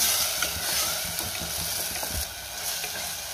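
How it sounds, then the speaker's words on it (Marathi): Masala paste and desiccated coconut sauté in a pan for a spicy white pea curry, giving off a soft, steady sizzle with faint scraping stirs, fairly quiet and close, with no talking. "पावडर मसाल्याची पेस्ट घातल्यावर मी पुन्हा 1 ते 2 मिनिटं चांगलं परतून घेतलेलं आहे"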